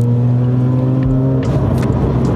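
A Mazda RX-8 R3 with a street-ported rotary engine pulls at half throttle in fourth gear around 45 mph, giving a loud, steady buzzing engine drone heard from inside the car that shifts tone partway through.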